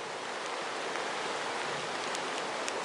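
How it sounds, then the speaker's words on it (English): Steady rain falls beside the Sisquoc River along a trail, a continuous, even hiss of drops and flowing water with no voices. "it's it's raining pretty good as usual lately"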